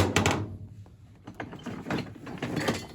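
Old tin snips are handled in a workshop, giving a few close, sharp metallic clicks and clanks in irregular bursts against a quiet background.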